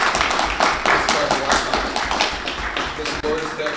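An audience at a school district board meeting claps steadily, a dense patter of hands lasting the whole stretch at a fairly loud, even level.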